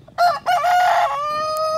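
A Gallo Pava fino rooster crows close and loud, one clear cock-a-doodle-doo that rises in broken bursts and then holds a long, steady final note.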